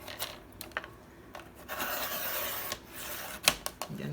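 A paper strip about an inch wide is trimmed for a junk journal with a paper trimmer, giving quiet scraping, rubbing slides and a few soft clicks, close and faint.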